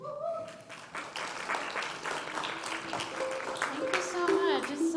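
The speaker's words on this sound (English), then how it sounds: "Please help me welcome and give a warm round of applause for John and Amy." An audience at a live Unity of Boulder gathering claps warmly to welcome musicians, steady crowd applause with scattered voices and someone speaking mixed in.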